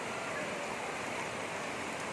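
Steady, dense hiss of rain falling on surfaces, continuous and even throughout with no other clear sounds.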